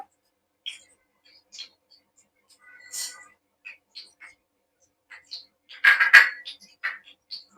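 Mustard seeds dropped into hot oil in a pan, giving scattered sharp pops and crackles that come sparsely at first and then burst into a brief dense cluster, all close and fairly quiet.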